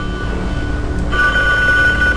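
In the video game The Apartment, a telephone rings with a steady electronic bell tone that comes in partway through over a constant low background hum, loud and alone without speech.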